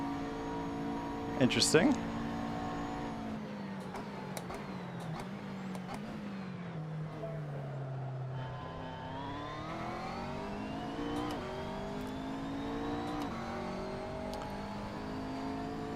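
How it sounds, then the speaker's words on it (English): A racing Nissan accelerates and pulls away, its engine note sliding down and then climbing steadily over a continuous car drone, with a brief louder burst early on and a short spoken remark. "Boy, look at that Nissan pull away."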